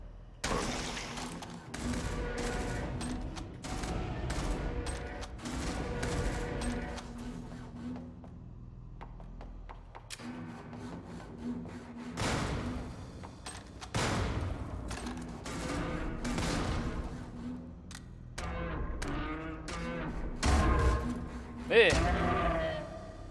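Gunfire from the video game Jupiter Hell on hard difficulty: repeated bursts of loud shots and impacts come in clusters among game music, with someone talking over them.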